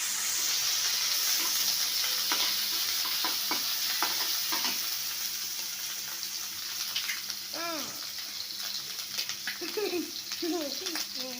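Vegetables frying in a pan with a continuous loud hiss and sizzle throughout, small spatters popping, and brief talk and other voices appearing toward the end.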